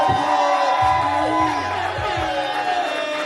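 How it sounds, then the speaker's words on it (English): Crowd at a poetry event roars with cheering, whooping and shouted voices, a loud, dense mix of excited yells sustained throughout. "Can I get a round of applause for 3 years of Avery Cowboy?"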